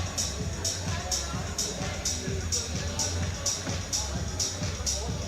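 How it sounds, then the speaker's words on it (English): Crowd and teammates shouting encouragement to an ice climber at an ice climbing competition finals in Sunderland, UK, a steady babble of cheering voices under a commentator's talk, with a regular sharp tapping repeating about twice a second. "the encouragement here is absolutely brilliant from the crowd and the teammates"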